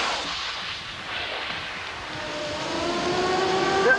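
A cannon firing as a sound effect produces a broad, rushing roar that swells steadily, with a rising whistling tone near the end and a sharper burst at the close. No one speaks over it.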